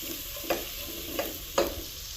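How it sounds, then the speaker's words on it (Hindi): Shredded cabbage and capsicum frying in a pan with a constant sizzle, broken by three short stirring scrapes spaced roughly half a second apart. "इसको थोड़ा सा फ्राई करेंगे।"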